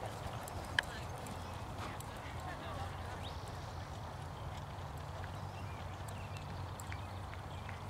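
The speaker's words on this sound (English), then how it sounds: "circle left 20 meters, rising trot, allowing the horse to stretch forward and downward." Horse hooves trot on an arena surface during a dressage test at a horse show, a soft, steady rhythmic clip-clop heard faintly at a distance under a low background hum.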